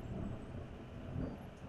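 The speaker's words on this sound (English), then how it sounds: "Well, that is thunder outside." Thunder rolls outside during a storm, a low, faint rumble lasting the whole short moment with a couple of slightly stronger swells.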